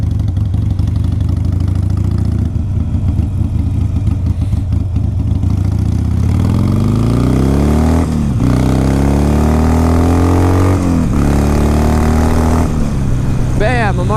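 A 2009 Harley-Davidson 883 Sportster rumbles steadily on the road, its engine rising in pitch through several gear pulls, loud and close with constant wind rush throughout.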